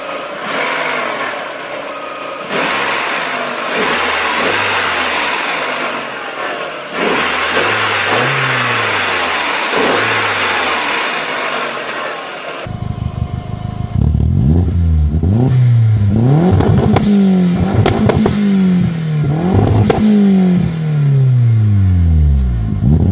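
A turbocharged Volkswagen 1.8 20-valve engine revs repeatedly, each blip climbing and falling. It starts a little muffled, then sounds closer and louder with sharper, punchier revs.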